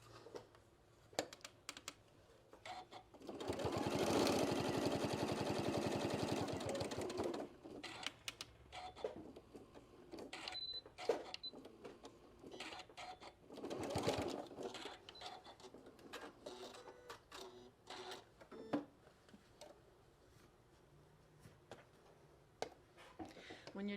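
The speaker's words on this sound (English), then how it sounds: "so I just sewed within 1/4 inch of the edge here" A sewing machine stitching the edge of a fabric shoulder wrap runs in one steady, loud whirring burst of about four seconds. Later comes a shorter run, with handling clicks and rustling between them.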